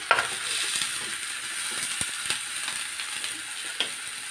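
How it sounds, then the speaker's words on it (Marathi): A large cut onion is roasted in a pan for misal pav, giving a steady close sizzle and frying hiss with small scraping clicks of stirring throughout, with no voices. "मी आता हा कांदा भाजून घेते"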